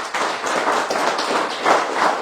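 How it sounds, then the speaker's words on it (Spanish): Congregation at a Catholic-themed theology seminar applauding together, a dense, steady wash of many hands clapping in a large room, moderately loud with slight swells throughout. "Un aplauso para el Señor."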